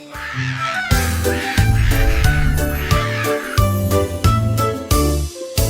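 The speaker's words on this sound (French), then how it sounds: "Percy le perroquet a crié toute la journée." A parrot squawks in loud, harsh bursts within a cheerful French children's song, mixed with tinkling music throughout.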